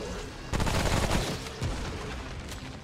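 Gunfire rattles in a video game fight against Gorefist while exploding gremlins rush in, a dense burst of loud shots and blasts with a sharp jump in intensity early on and a few more hits after.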